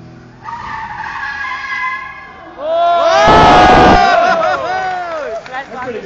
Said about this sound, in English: Parallel parking, Russ Swift style.